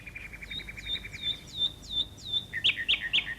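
Nightingales sing in the treetops, a run of repeated clear rising whistles followed by brighter, louder trilled chirps, close and continuous with no talking.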